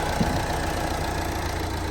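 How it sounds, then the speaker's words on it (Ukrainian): A Renault Megane GT Line 2.0 dCi diesel engine idles with an even, knocking rumble, close and continuous, with no voices. "Мотор так само працює чітко, рівненько"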